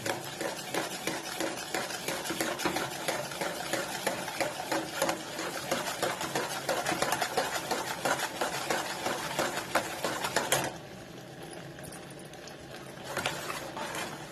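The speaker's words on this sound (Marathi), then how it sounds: "आता याच्यामध्ये हे घालून हलवायचं" Milk powder paste being stirred into curdled milk in a pan for barfi, rapid continuous scraping and tapping of a spoon against the metal pan, loud and busy, easing off briefly near the end.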